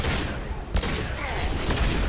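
A gunshot fires in the video game Mass Effect 2, a sudden sharp blast over steady game background noise, followed by a second, softer report about a second later.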